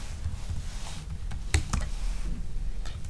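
Keys clack on a computer keyboard, a few soft taps followed by a couple of sharper, louder presses in quiet surroundings.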